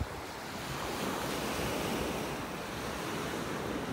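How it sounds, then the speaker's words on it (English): Ocean waves breaking on the beach in North Naples, Florida, a steady broad surf roar with wind buffeting the microphone, continuous and fairly loud with no voices. "It used to be out where those waves are breaking over here."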